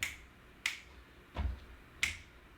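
Finger snaps during a Parkinson's balance exercise class, three sharp distinct snaps spaced about 0.7 seconds apart, with a softer shuffling thump between them.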